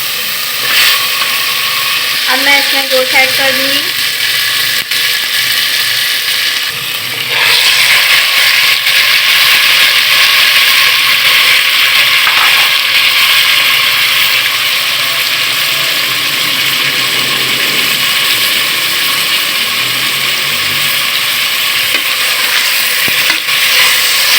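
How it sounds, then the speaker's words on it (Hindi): Mutton pieces hit hot oil in a pan with ginger and garlic, and a loud, continuous sizzle and hiss follows, joined by stirring scrapes and steamy crackle that stays close and dense throughout. "और अब मैं इसमें गोश्त ऐड कर दूँगी"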